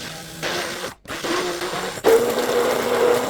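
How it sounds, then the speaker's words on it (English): A little handheld blender whirs steadily through crepe batter, a close, loud motor buzz that cuts out for a split second and then resumes even stronger. "get a little handheld blender and mix it up."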